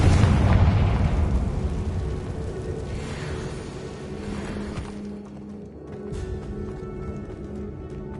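A Confringo fire spell explodes in Hogwarts Legacy: a loud, low booming blast that rumbles and slowly fades, followed by a softer crackling tail and a faint second thud.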